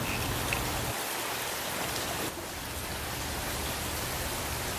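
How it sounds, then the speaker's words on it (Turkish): Light rain beginning to fall outdoors, a steady, even hiss of drops that continues throughout. "Yine yavaş yavaş yağmur başladı."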